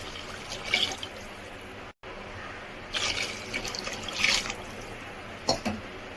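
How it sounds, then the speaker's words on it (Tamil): Water is poured onto rice in a pot for Bangalore-style mushroom donne biryani, with intermittent close splashing bursts over a soft, steady background hiss. "1 கிளாஸ் அரிசிக்கு 2 கிளாஸ் தண்ணி."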